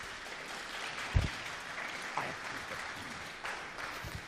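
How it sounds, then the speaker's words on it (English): Faint, distant audience applause at a penetration-testing talk, a soft steady wash of clapping with a couple of brief louder thumps, continuing for a few seconds. "So please, your applause for Dimitar Shovarjiev."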